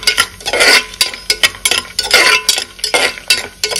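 Whole spices (bay leaf, cinnamon, cardamom and cloves) frying in oil in a pressure cooker, mostly heard as repeated metallic clinks and scraping of a spoon stirring against the pot, close and loud, with no talking.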